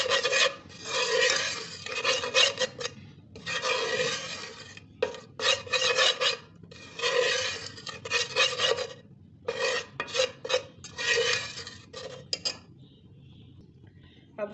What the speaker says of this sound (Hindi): बहुत हल्की आग पे इसे 5 मिनट भूनना है।